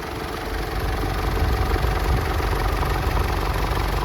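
2008 Mitsubishi MN/ML Triton ute sitting at idle, a steady low engine hum with a faint knocking texture, close and constant with no other sounds.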